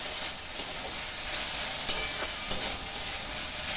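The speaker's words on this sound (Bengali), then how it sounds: "দেখো শাপলা ভাজা হয়ে গেছে।" Water lily stems fry in a pan after steaming under a lid, giving a steady close sizzle and hiss with a few light clicks of stirring.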